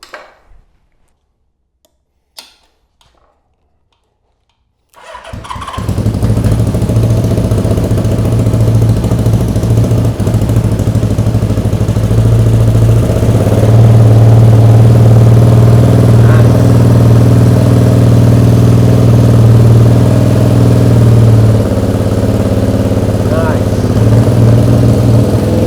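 A barn-find Honda CB550 motorcycle with 6,000 miles: a few faint clicks, then the engine fires after about five seconds and settles into a loud, steady, close idle with slight throttle swells.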